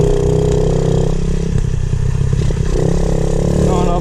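A Honda Z50 pit bike engine runs close by with a loud, steady, buzzing idle and slight rev changes, with some rattling clatter throughout.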